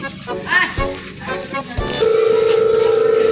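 A mobile phone call is placed: a few short button beeps amid talk, then a steady repeating ringback tone sounds for the last second and a half.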